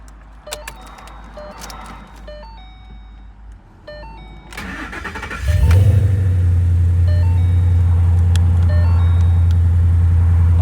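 A 2014 Ford Mustang GT V8 cranks and fires up, then settles into a loud, steady, deep idle rumble, with faint ticks and a chime heard before the start.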